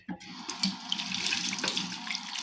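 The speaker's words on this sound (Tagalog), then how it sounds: "Katatapos ko lang magluto kaya maghugas tayo." Tap water runs into a kitchen sink while dishes are washed after cooking, a steady close splashing stream with small clinks and splashes over it and no talking.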